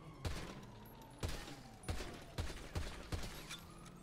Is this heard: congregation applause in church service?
no